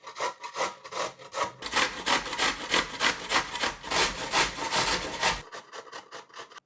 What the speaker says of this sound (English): I'm gonna grate from the coarse side.